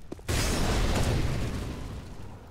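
A molotov fire grenade in CS:GO bursts into flame with a sudden loud whoosh after a brief quiet moment, then settles into a roaring crackle that slowly fades.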